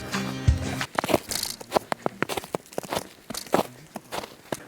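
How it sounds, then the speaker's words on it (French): Footsteps crunch through snow among ruins, a steady run of close, crisp crackling steps with no one talking. "Le truc que j'adore les amis, c'est le bruit de pas dans la neige."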